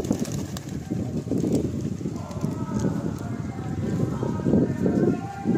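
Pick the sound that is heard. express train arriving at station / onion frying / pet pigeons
pet pigeons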